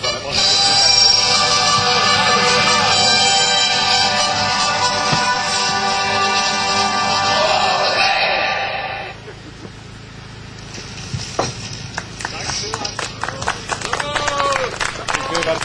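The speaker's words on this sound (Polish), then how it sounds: "proszę o brawa" An audience applauds the first-place winner at a national long-range shooting competition. The clapping is loud and sustained at first, then thins to scattered claps and background murmur.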